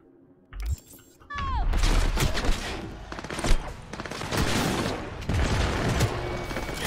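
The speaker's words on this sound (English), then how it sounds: "Flashbang." In Cyberpunk 2077, a flashbang grenade goes off with a sharp ringing whine, followed by loud, dense bursts of gunfire and booming impacts that continue close up for several seconds.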